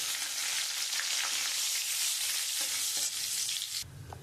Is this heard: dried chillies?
yes